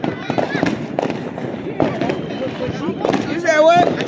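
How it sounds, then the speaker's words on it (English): Fireworks going off outdoors during a Juneteenth celebration, a steady run of pops and crackles with voices talking and calling over them throughout. "As far as I'm concerned, it was another firework."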